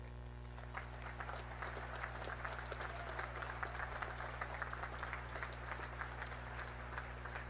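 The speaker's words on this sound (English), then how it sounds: "Please join me in recognizing and applauding these distinguished graduates." An audience at a Naval Academy graduation ceremony applauds distinguished graduates, a steady wash of many hands clapping at a distance over a low constant hum.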